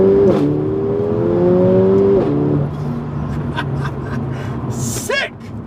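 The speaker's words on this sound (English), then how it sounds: "I hope you've enjoyed the sound of this car." A Mercedes A45 AMG engine revs loudly with a rising, climbing pitch, eases off, then settles into a steady rumbling drone.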